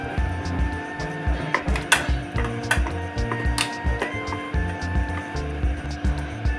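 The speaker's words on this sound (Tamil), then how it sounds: "இதை தோசை மாவு பதத்துக்கு மிக்ஸ் பண்ணிக்கணும்." Banana pancake batter, thinned with water to a dosa-batter consistency, is stirred in a bowl with a spoon, giving repeated scraping and knocking strokes against the bowl along with small clinks.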